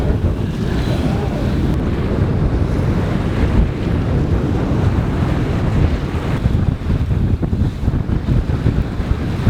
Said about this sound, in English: Finally some nice breeze, around 10 knots, just perfect.